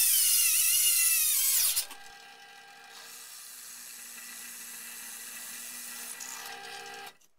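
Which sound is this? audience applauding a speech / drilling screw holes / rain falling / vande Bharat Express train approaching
drilling screw holes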